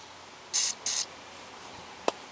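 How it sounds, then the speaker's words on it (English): Two short hissing bursts of penetrating oil from an aerosol can, sprayed into rusty caliper bracket bolt holes on a 2015 Honda Civic, followed by a single sharp click, in a quiet garage. "We're going to spray some penetrating oil in here"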